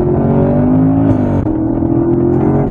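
A 2017 Chevrolet Camaro SS 1LE on 305 rear tires, traction control on, accelerates hard with rear wheelspin: a loud, steady, deep engine roar holds close throughout, with pitch barely shifting.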